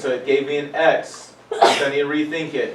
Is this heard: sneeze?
yes